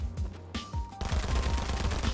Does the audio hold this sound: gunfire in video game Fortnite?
yes